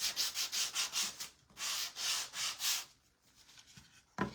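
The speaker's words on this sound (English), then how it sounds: "You're just gonna need to do a very gentle sand because it will pull that paint up really, really easily." Sandpaper of 120 grit rubs gently over a painted craft piece in quick back-and-forth strokes, close and soft, with a pause near the middle before a second run of strokes and a short scrape at the end.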